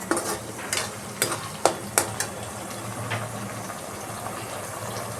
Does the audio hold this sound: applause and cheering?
no